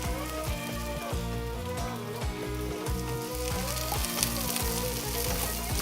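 Onions and peas fry briskly in a pan, giving a steady, dense sizzle and crackle throughout with no pauses.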